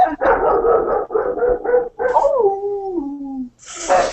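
A dog barks in a quick series of loud, close yips, then lets out a drawn-out whining howl before one more bark.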